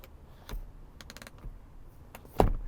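A handful of sharp plastic clicks from a Ford F-150 Tremor headrest being adjusted, some single and a quick cluster of several, ending with one louder click, against quiet background hum.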